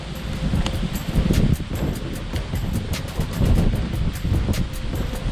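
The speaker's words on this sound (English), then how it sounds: "The wind is blowing, which makes it a little harder." Wind gusting outdoors around a Mini Cooper F56 during a spoiler extension install, a continuous loud rumbling buffet against the microphone with faint rustling and small ticking sounds.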